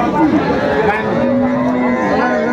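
Cows and a calf low repeatedly at a busy rural cattle market in Aftabganj, Dinajpur, their long drawn calls rising over constant crowd chatter and talk nearby.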